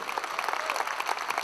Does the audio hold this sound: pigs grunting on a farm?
no